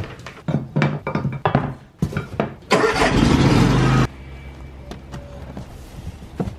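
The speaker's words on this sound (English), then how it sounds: "picking up the lawn tractor with the trailer" A lawn tractor with a trailer hitched is picked up. A few thumps and clunks lead into a loud engine start that roars for about a second and a half and then drops to a low background hum.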